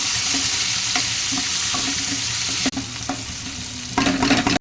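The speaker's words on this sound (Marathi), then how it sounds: "आपण टमॅटो टाकून बारीक करून घेतो मस्त टमॅटो परतून" Chopped tomatoes sauté in a pan for a drumstick curry, giving a steady close sizzle broken by a few spatula scrapes and stirring knocks, with a louder burst of frying near the end.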